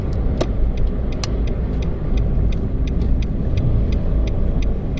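A Nissan March with a remapped ECU pulls hard on a track, its engine a steady mid-pitched roar with road and wind rumble, a regular ticking recurring throughout.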